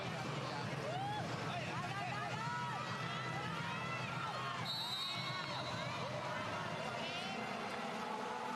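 An arena crowd at a women's international volleyball match, Belgium against Thailand, keeps up a constant loud roar of cheering and shouting, with whistles and a brief bright burst partway through.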